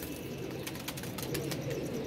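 Pet pigeons, VIP-class Kamagar, Dab and Teddy pairs, coo softly in low, repeated throaty calls at a faint level amid quiet background noise.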